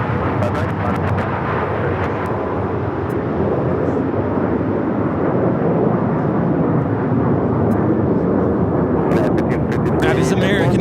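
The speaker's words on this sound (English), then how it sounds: "1933 taking off to Phoenix on the 737-800" An American Airlines Boeing 737-800 taking off from LAX for Phoenix makes a heavy, sustained jet roar, with broken radio chatter over the top at the start and again near the end.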